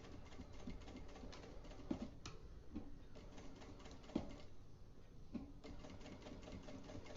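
Jack A4 industrial sewing machine stitching slowly, a steady soft mechanical whir with faint rhythmic ticking and a few louder clicks, running continuously and fairly quietly throughout.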